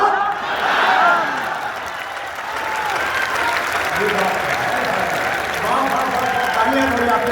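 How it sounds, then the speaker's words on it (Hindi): Audience applause fills a poetry recital in Patna, a dense, sustained wash of clapping from a large crowd that swells early, dips briefly, then holds steady throughout. "तालियों का कोहराम उठा दो"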